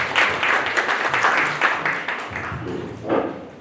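A crowd applauds steadily at a workshop event welcoming a speaker, with dense, continuous clapping that swells slightly near the end.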